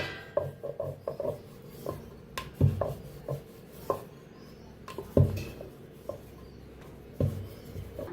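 Maida dough balls for karanji being rolled out thin with a rolling pin, soft irregular rubbing and light wooden knocks against the board, faint and close, with no voices.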